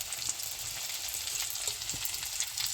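Onions frying in a pan with tomatoes and green chillies tossed in, a steady close sizzle with soft crackles and faint stirring, no voices.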